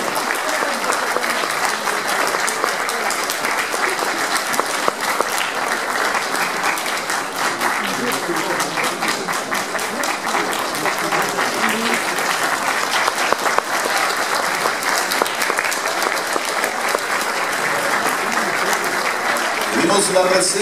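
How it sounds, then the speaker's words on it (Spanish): A graduation ceremony audience applauds to welcome a guest to the head table, with dense, steady clapping that fills the hall for the full twenty seconds, loud and even without a break. "El aplauso de bienvenida para ella también a la mesa de honor."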